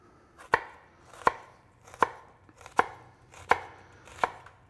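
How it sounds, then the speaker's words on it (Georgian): A knife chops onion finely on a board, six crisp, evenly spaced strikes about one per second, close and clear with no voices. "ხახვი, რა თქმა უნდა, შევეცავთ რომ მაქსიმალურად წვრილად დავჭრათ"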